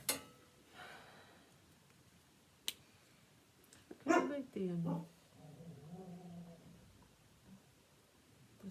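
A dog gives a couple of sharp barks in the middle, followed by softer whimpering sounds, with faint talking and small clicks around it in a quiet room.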